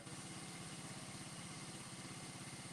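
A miniature train engine runs at a steady idle, its low, regular chugging pulse continuing evenly and quietly throughout without any talk.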